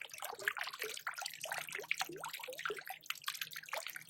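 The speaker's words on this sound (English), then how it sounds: "There's something about the sound of running water that is just very relaxing and very peaceful." Running water in a park, a gentle continuous babbling and trickling with irregular splashy bursts, fairly faint and heard alone.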